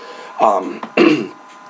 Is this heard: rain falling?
no